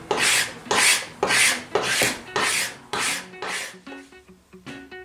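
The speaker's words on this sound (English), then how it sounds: "And that's why it's going through the drum sander." A wooden workbench top passes through a drum sander, giving a loud, close, rhythmic series of about eight rasping surges, each swelling and fading in turn, with no voices.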